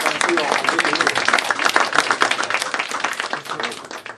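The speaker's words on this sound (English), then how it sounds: "I guess Senator has deserved the round of applause from us" Audience applause for a U.S. Senator at a meeting with young Latvian leaders, a steady wash of hand claps at even strength throughout, with voices mixed in.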